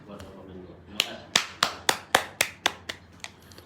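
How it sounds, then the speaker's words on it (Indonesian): A room of people claps for the Coordinating Minister at an Indonesian briefing, a short run of about nine sharp, evenly spaced claps close by, fading toward the end. "kami minta untuk kita tepuk tangan bersama buat Bapak Menko"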